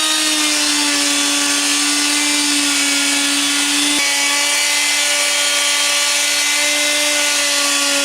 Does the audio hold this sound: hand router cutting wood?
yes